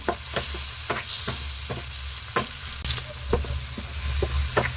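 Tomatoes frying with onions in a pan for a tomato thokku, a steady sizzle broken by repeated sharp scrapes of a spatula at an irregular pace, close and fairly loud, with no voices.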